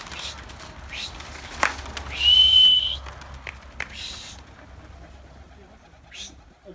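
Pigeons cooing at a pigeon coop against steady outdoor background noise, with a brief high whistle-like note partway through.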